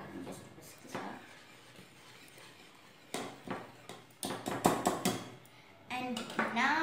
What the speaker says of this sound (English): I'll take my whisker and just whisk this up